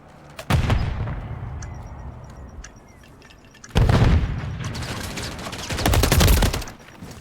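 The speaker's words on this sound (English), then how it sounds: "Enemy combatant that was taking shots at his teammate there is going to be rotated on by Willman and Yugi there into spawn." Gunfire in a Search and Destroy match of a competitive video game league: an opening volley, then quieter stretches with scattered single shots, followed by two more loud bursts of rapid fire.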